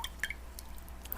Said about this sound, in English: Now each one I'll just